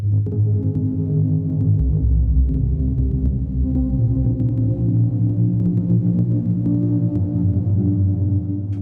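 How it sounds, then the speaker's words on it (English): A dense, steady granular guitar texture, thick low tones throbbing evenly with no variation, sustained loudly throughout. "Without randomness, this is what it sounds like."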